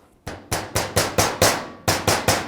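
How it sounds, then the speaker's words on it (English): Nine evenly spaced hammer taps ring out sharply and close by, striking the clamp on a CV joint boot of a 2010-2017 Chevrolet Equinox during a rebuild, with a brief pause before the last three. "Tap it with a hammer."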